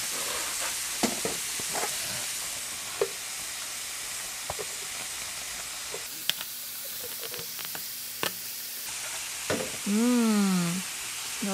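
Sliced pork belly sizzling in a hot pan, a steady bright hiss throughout with occasional clinks and stirring knocks, close and fairly loud, plus a brief pitched squeak near the end.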